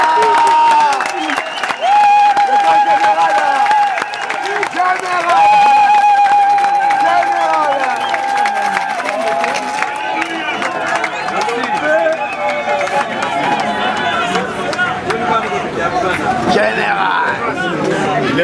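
At a UDPS party political rally, a crowd stands and applauds for Jean-Marc Kabunda, with loud sustained clapping and cheering mixed with crowd chatter, while a voice talks over the noise.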